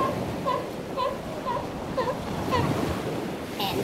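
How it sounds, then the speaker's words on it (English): Ocean surf rushes and washes steadily with wind buffeting the microphone, while a bird chirps repeatedly in short, regular bursts above it. "Stella and Sam were spending a day at the seashore."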